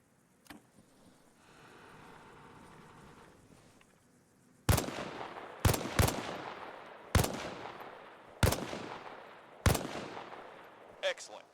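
Rifle shots at a firing range in the game Arma Reforger, six sharp loud reports spaced about a second apart, each with a decaying echo, after a quieter stretch of low rumble and faint background noise.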